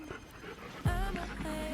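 A German Shepherd nearby pants and gives faint whimpers, soft and close in a quiet room, with a thump partway through.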